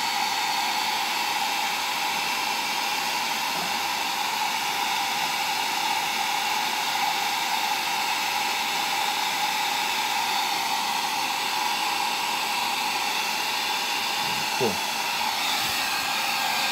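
A hair dryer blows continuously at close range, a steady loud whooshing hiss used to dry paint on a miniature battle vehicle model, with only faint brief handling noises underneath.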